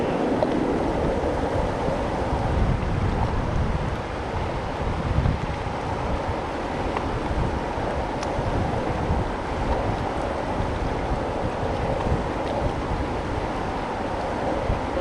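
Steady wind buffets the microphone outdoors on a summer fishing trip in Jackman, Maine, a continuous roaring rumble without pause and no talking.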